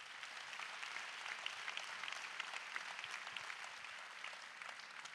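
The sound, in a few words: audience applause at a charity concert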